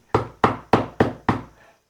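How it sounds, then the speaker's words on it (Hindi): A door is knocked five times in an even, unhurried rhythm. Each rap is crisp, close and loud, followed by a short decay, with no voices. "तभी उसके दरवाजे पर दस्तक हुई।"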